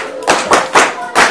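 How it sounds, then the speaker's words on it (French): Schoolchildren at a public school in Bati clap together in four loud, separate bursts, each a short group clap close by, with brief gaps between them. "Applaudissez-vous"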